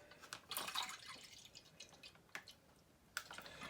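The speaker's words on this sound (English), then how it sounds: "I'm going to continue pouring." Milk pours from a snipped corner of a milk bag into a container, a faint, uneven stream of drips and splashy trickles with a few sharper spatters, heard up close and quiet with no talking.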